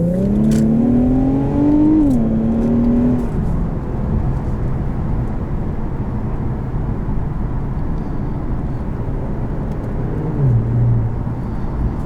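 A 2020 Infiniti Q50S Red Sport with an INVIDIA catback exhaust revs and accelerates early, its tone rising then dropping into a steady, subdued drone heard from inside the car, with a brief blip near the end.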